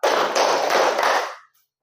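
A group of teachers at a district working-group gathering in Bulok claps together in a dense, loosely synchronized burst that holds steady and then stops abruptly, leaving silence.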